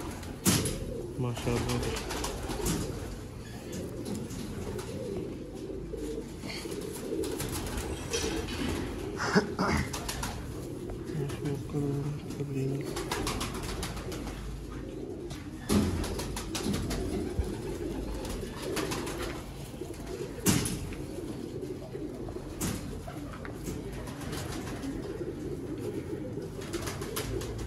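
Old breeder pigeon on a rooftop, repeated low throaty coos and faint wing shuffles close to the microphone over a steady background hum, with someone speaking briefly.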